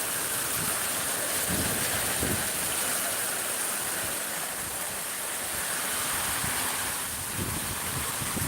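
Heavy, steady rain pours down as a dense, continuous wash of noise with scattered louder splashes, close and evenly loud throughout, with no wind or thunder and no voices.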